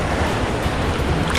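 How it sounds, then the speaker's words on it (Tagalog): Strong sea waves wash and churn continuously near a snorkeling spot, a dense, close rushing of surf mixed with wind noise and no pauses. "Ang lakas naman ng alon dito."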